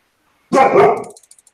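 A dog gives one sharp, loud bark close by, followed by a brief faint whimpering trail, in a war commander game.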